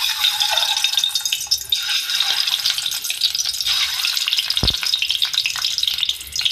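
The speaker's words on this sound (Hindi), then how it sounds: "मैंने इसमें डाला है ऑयल और अब मैं एग को जो है फ्राई कर लूँगी" Eggs fry in hot oil in a karahi with a loud, close, steady sputtering sizzle and a brief thump of a utensil partway through.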